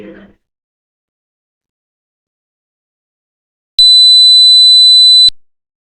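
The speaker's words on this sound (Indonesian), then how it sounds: "Ini merupakan frekuensi 2000 Hz." After a brief faint murmur and a few seconds of silence, a high-pitched sine test tone from a hearing-test demonstration sounds steadily for about one and a half seconds before fading out.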